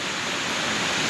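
Heavy rain pouring down steadily in a rented room abroad, water flooding the floor, a dense continuous hiss with no pauses or voices.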